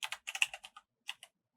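Quick bursts of keystrokes on a computer keyboard, close and fairly soft, about a dozen clicks in an uneven rhythm with a brief pause before a couple of final taps.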